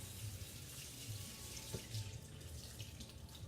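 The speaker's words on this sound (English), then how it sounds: "Just gonna rinse this off" Tap water runs steadily into a sink, rinsing chalk off a reusable board, with a continuous broadband rush and a few brief splashes partway through.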